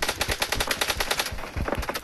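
Rapid bursts of gunfire from a competitive battle royale match, dense automatic shots repeating quickly in near succession, loud and continuous across the whole stretch with no talking.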